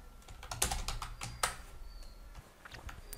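Keystrokes tap on a computer keyboard while entering a Chrome Web Store search, a quick irregular run of clicks with two louder presses, fairly close, with no voices.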